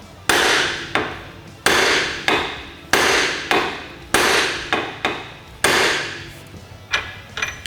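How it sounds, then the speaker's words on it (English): A hammer strikes another hammer held against a billet tie rod on a Polaris RZR Pro XP to knock it loose, landing about a dozen sharp, ringing metallic blows in an uneven rhythm, loud and close. "we're gonna smack that hammer and it's gonna knock that loose."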